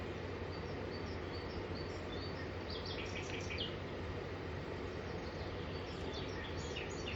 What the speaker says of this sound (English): Yep, you got the birds chirping.